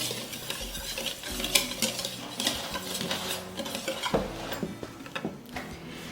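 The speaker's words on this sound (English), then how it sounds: "So we're going to just mix all of our dry ingredients together." Dry cornbread ingredients, including salt, for sweet potato honey cornbread muffins are stirred together in a bowl, a steady run of scraping and clinking strokes at close range with no talking.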